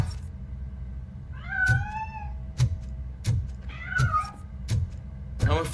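A cat in the video game RoboCop: Rogue City gives two drawn-out, wavering meows, close and clear, over a steady rhythm of low thuds and background game hum.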